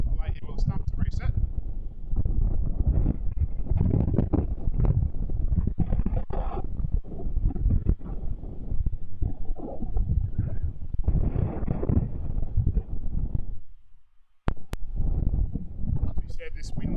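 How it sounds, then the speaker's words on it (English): Strong wind buffets the microphone at an outdoor cricket match, a steady low roar running under continuous commentary with one brief lull near the end. "this wind is becoming quite miserable down here"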